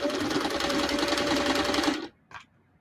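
A Singer 338 sewing machine runs steadily through a row of assembly-line stitching, a loud, even mechanical whir that stops abruptly, followed by a brief faint clunk and quiet.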